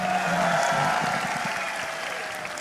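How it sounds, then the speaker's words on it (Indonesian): Crowd applause welcoming Anies Baswedan at a public gathering in Pekanbaru, Riau: a steady, dense wash of clapping from a large audience with a faint whistle-like tone above, holding level for a few seconds before easing slightly. "boleh dong kita semua berikan tepuk tangan"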